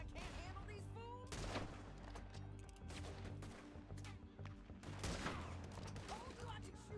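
Scattered gunfire in the Red Dead Redemption 2 video game pops out as several sharp shots over a fairly quiet background, with faint voices around the bursts.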